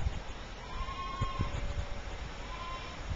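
Goats bleat at a show training session, a few faint, wavering calls heard under steady outdoor background noise, with no one speaking.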